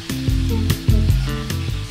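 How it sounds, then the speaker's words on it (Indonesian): Sliced beef stir-frying with garlic in a hot pan, for beef and green beans in oyster sauce: a steady, loud sizzle broken by repeated scraping stirs and clanks of the spatula, with no talking. "sekarang kita masukkan potongan daging sapinya. Lalu kita tumis terus sampai setengah matang."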